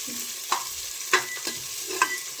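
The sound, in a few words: onions being fried and stirred in a cooker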